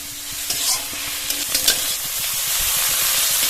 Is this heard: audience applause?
no